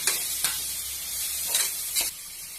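Tomato being stirred into ginger garlic paste frying for egg biryani, a steady close sizzle with scraping stirs and several sharp spoon knocks against the pan, no talking.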